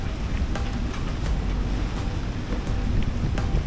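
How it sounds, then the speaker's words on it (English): Strong 30-knot wind and pouring rain surround a moored boat, making a constant dense roar with faint gusts and the wash of water. "30-knot winds, pouring rain"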